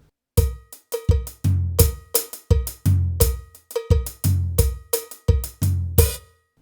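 A kompa beat played on a drum kit with cowbell, crisp repeated drum and cowbell strikes in a tight syncopated groove, close and loud with no talking.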